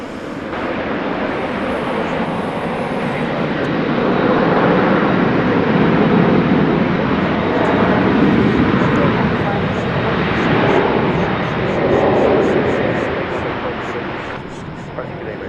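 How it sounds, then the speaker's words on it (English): An American Airlines Boeing 737-800 takes off from DFW Airport bound for Santa Ana, its engine roar building into a broad, sustained rumble that swells mid-clip and then eases, with radio chatter faintly under it. "American Flight 2114 off to Santa Ana, California, 737-800."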